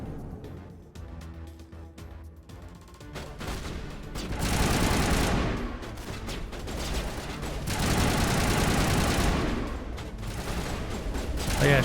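Mass Effect combat gunfire: after a quieter opening, long bursts of rapid shooting swell in, loud and sustained, with a short lull before another heavy stretch of fire.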